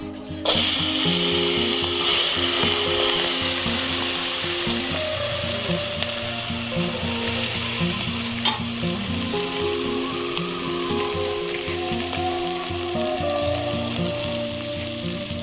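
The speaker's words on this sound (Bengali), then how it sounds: "কাঁকড়া ভাজা হয়ে গেছে, এবার কাঁকড়াগুলো তুলে নেব।" Crabs sizzling in hot oil for a crab jungle pulao, a dense, close crackle that carries on steadily with occasional metallic scrapes and one sharp knock.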